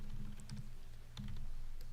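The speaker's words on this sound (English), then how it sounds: "I'm really bad at typing and trying to talk at the same time" Fingers tap on a computer keyboard in quick irregular bursts of clicks, with a pause between runs and a low steady hum underneath.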